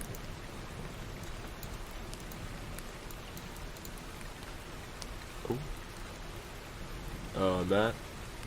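Steady hiss of rain ambience from a rain noise app runs throughout at low level, with a brief voiced sound near the end rising above it.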